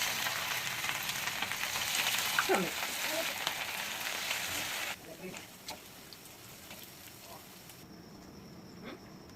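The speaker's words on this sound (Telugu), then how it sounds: "ఇప్పుడు గోబీ కొంచెంగా దాంట్లో వేసి బాగా ఫ్రై చేసుకోవాలన్నమాట." Cauliflower pieces fry in hot oil for a gobi Manchurian, with a dense, steady sizzle that drops to a softer crackle partway through, while a person talks over it.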